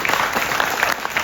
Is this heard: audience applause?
yes